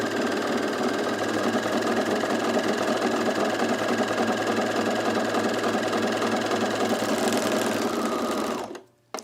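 A sewing machine runs steadily while stitching fabric for a color-block top with piping, a loud, continuous mechanical whir with a fast needle rhythm that cuts off abruptly just before the end.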